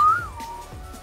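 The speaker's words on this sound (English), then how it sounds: "That's a whistle." A person whistles one sustained, gliding tone that bends downward and holds steady, loud and close, with no talking over it.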